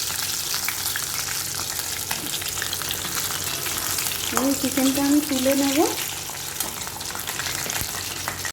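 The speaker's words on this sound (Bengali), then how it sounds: "এবার আমি এই পিসগুলোকে কড়াতে, এখানে তেল গরম হয়ে গেছে" Chicken pieces frying in hot oil in a wok, a dense steady sizzle heard up close with some stirring, while a person speaks briefly partway through.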